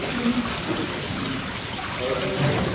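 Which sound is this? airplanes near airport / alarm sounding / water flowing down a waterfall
water flowing down a waterfall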